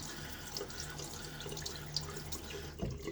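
Tap water runs over a soapy Timeless stainless safety razor handle to rinse it, a quiet, steady trickle with light splashes and drips close by, no talking.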